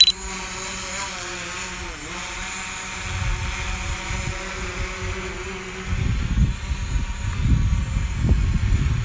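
A drone hovering outdoors on a fine day in Cleveland after takeoff, with a steady multi-tone whine of spinning propellers, joined by gusty low rumbles that grow louder toward the end.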